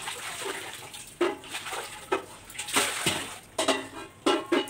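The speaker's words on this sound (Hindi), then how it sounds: "और इसको अच्छे से धो लेंगे हम।" Tie-dyed dupatta cloth swished and rinsed in a vessel of water, with several sloshing splashes in bursts, moderately close and without talk.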